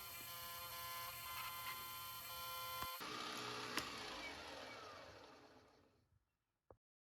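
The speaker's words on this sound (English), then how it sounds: "here I'm actually milling the correction on the new cap" Steady, dense machining whine from a milling machine cutting a correction on a new plane cap for a chisel plane made from a Stanley No. 1, running continuously before spinning down into silence, followed by one brief sharp knock.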